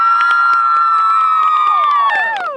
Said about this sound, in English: Let's hear a little cheer, girls